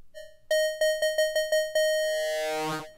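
Carbon Electra software synthesizer playing an FM patch: a run of seven bright, bell-like repeated tonal notes with rich harmonics, then a longer sustained note whose overtones sweep and wobble before cutting off, with no voices.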